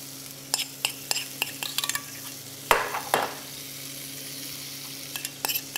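Venison loin sizzles in a hot pan with about 125 grams of butter and rosemary, a steady frying hiss broken by clinks and scrapes of a utensil against the pan, close and without talk.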